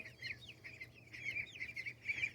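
Chickens on an off-grid homestead farm clucking steadily, a busy run of short bright calls that swell and overlap near the end, with no talk over them.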